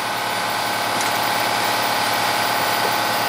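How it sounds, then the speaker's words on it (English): A loud air compressor runs nearby with a steady, pulsing mechanical drone, heard alone and unbroken in a workshop during a push lawn mower crankshaft repair. "There's my loud air compressor."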